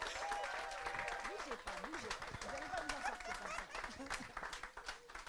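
Faint audience applause for speaker Biba Pedron at a visibility summit in Paris, a soft, distant patter of clapping with voices talking over it throughout.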